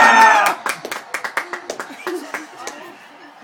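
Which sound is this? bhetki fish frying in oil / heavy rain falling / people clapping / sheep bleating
people clapping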